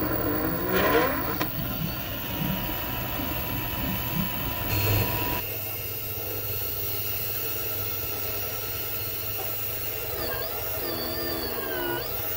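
Brushless DC motor driven by a PWM speed controller, a steady mechanical whir with shifting tonal whine that changes pitch as the speed varies, close and moderately loud throughout.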